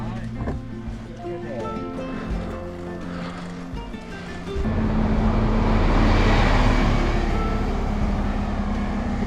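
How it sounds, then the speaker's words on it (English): A bus rumbles past on a road closed to cars, its engine noise swelling loud and close in the second half and holding steady, after quieter traffic and street sounds with voices nearby. "You can see that bus that just went by."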